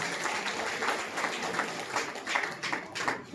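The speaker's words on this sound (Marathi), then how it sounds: "आपण जोरदार टाळ्या वाजवून त्यांचं अभिनंदन करू" An audience at a Dhammachakra Pravartan Day gathering bursts into steady, dense applause, a continuous wash of many hands clapping throughout.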